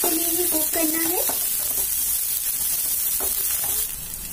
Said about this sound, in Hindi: अब इसमें प्याज डाल दूंगी। प्याज को भी हमें एक मिनट के लिए ही कुक करना है।